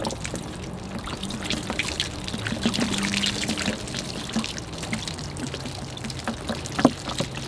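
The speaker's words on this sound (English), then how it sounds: "I'll just tip the water off of those." Soaking water tipped off acorn seeds into a container while starting oak seedlings, a soft continuous trickling pour with a few drips and splashes, close and fairly quiet.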